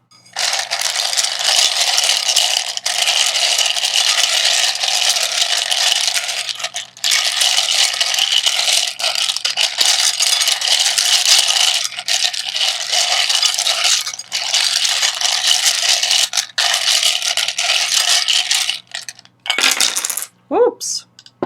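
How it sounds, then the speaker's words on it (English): Resin tarot tiles are shuffled by hand, a loud continuous clattering and rattling of many hard pieces knocking together in bursts with brief pauses, ending with a few scattered clicks. "Right, so going to give a shuffle starting now."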